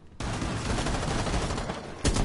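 Gunfire in the Rainbow Six Siege video game: a sustained, loud burst of rapid automatic fire that runs almost without a break, then another sharp burst near the end.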